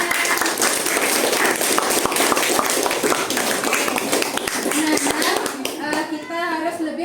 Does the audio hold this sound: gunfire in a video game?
no